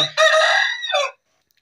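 An Aseel fighting rooster crows once, loud and close, a long drawn-out call with a rising final note, then silence.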